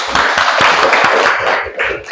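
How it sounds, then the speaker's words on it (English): A classroom of students clapping for a group of classmates, close, brisk, uneven hand claps lasting about two seconds with a brief lull near the end. "Give a clap for group auditory"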